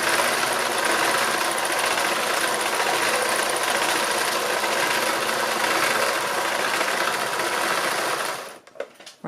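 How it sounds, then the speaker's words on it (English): A domestic sewing machine doing free machine embroidery runs in one long, steady, close whirring burst at an even speed, then stops abruptly near the end. "So I'm just going to do a little bit of free machine embroidery"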